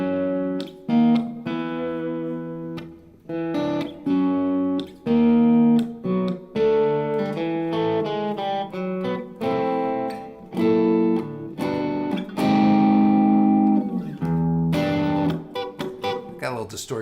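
Electric guitar with light distortion, played through a Strymon Iridium amp-modeling pedal, rings out in loud, sustained chords and single notes, phrased in bursts with short pauses throughout.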